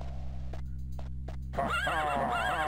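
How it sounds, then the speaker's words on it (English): A phantom horse neighs loudly in the game Daggerfall, one long whinny rising after a few soft clicks over a steady background hum. "I'm hearing a phantom horse."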